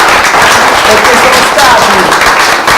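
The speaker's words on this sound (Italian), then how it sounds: "vi voglio fare io un applauso, ma fatevelo anche voi" A TV studio audience applauds, a steady wash of clapping at full volume throughout, with a presenter's voice speaking over it.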